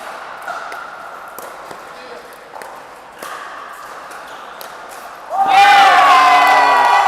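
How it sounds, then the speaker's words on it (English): Spectators at a men's league preseason qualifier match burst into a loud cheer and shouting near the end, after stretches of ball pings, bounces and scattered crowd noise under talk. "you can hear the crowd react to that"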